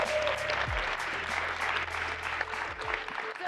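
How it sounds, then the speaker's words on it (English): Sustained applause from a crowd, dense clapping throughout with no pause. "So we deserve one more round of applause for just being here today."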